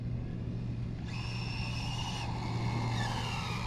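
An Rlaarlo Carbon AK787 RC car driving in turbo mode, its electric motor whining steadily and loudly with rising and falling pitch over a constant rumbling drone.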